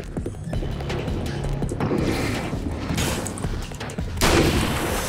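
Heavy shotgun blasts in the video game Alan Wake's American Nightmare, a few loud booming shots over a dense, noisy action soundtrack.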